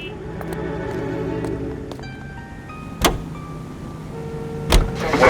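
A car in the video game LA Noire idles and drives with a steady low engine hum, joined by a couple of sharp clunks like a door or mechanism, close and moderately loud.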